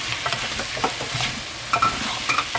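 Squid stir-fried in a pan sizzles steadily while a utensil scrapes and stirs, making irregular clinks and rustles up close.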